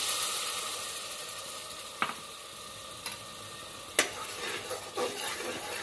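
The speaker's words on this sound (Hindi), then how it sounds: "अब हम ये टमाटर प्यूरी करी हमने 2 से 3 टमाटर की," Tomato puree being stirred and cooked in a pan for stuffed tinda, a faint soft simmer with a few light spoon taps against the pan, close and quiet.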